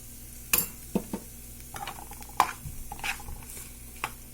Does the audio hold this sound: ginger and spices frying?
yes